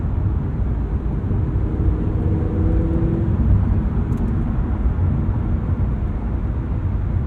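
A Lamborghini Huracan Technica cruising, heard from inside the cabin as a loud, steady low engine drone with a rushing wind and road roar that holds throughout, no voices.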